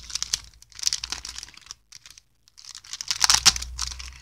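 A birthday parcel is torn open by hand, its packaging crinkling and crackling in close, loud bursts with a short quiet pause midway, then more vigorous rustling.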